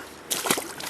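A released pike splashes back into river water during a float trip, a single quick slosh rising out of faint background, brief and close.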